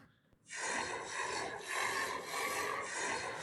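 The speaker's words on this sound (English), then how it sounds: "And then this sound of sucking through a straw." Sucking air through a straw, captured on an iPhone as a sound-effect source, a steady close raspy hiss that begins after a brief quiet moment and holds for about three seconds with slight swells.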